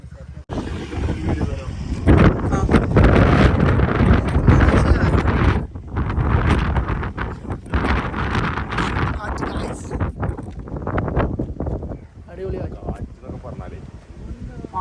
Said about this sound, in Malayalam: ഇങ്ങനത്തെ കാറ്റൊക്കെ ഉണ്ടാവും.